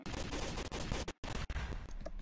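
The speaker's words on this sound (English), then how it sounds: "I can hear the gunshots." Rapid gunfire in a first-person combat video game, dense bursts of shots with a brief gap, fairly quiet overall and without talk.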